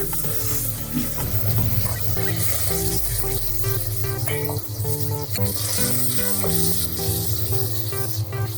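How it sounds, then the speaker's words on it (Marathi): Mutton masala sizzles in oil on low gas as it is stirred, a dense, loud, continuous frying crackle with scraping and clinking of the spoon against the pan throughout. "तेल सोडत नाही तोपर्यंत हलवायचं थोडा वेळ म्हणजे मसाले असे व्यवस्थित शिजले जाते"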